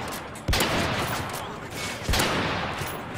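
Gunfire in a first-person shooter game, fired through a wall: two sharp, loud shots about a second and a half apart, each ringing out over a steady background of game noise.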